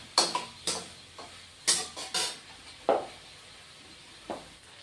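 Raw banana pieces rubbed with turmeric and salt frying in a pan: scattered sharp ticks, pops and spatula clatters at close range, irregular, over a faint low hiss.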